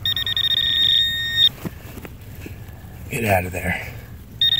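A metal detector held over a buried find gives a steady, high-pitched electronic tone that holds for over a second, then cuts off and returns briefly at the end, with people talking outdoors in between.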